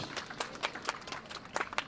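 An audience claps at a ceremony for a restored bell tower beside the mosque-church in Pécs, Hungary: steady scattered applause from a modest crowd, individual claps audible in a brisk, uneven patter.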